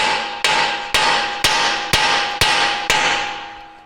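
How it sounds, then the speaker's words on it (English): Hammer blows on a Land Rover LR4 steering knuckle to jar loose a taper-fit lower ball joint, seven sharp metallic strikes spaced evenly about half a second apart, each ringing briefly, loud and close with no talk. "strike the knuckle where the ball joint goes down into the mating hole"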